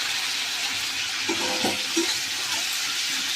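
Bottle gourd and shrimp being stirred in a frying pan, a steady sizzle with a few soft scraping strokes of the spatula, close and continuous.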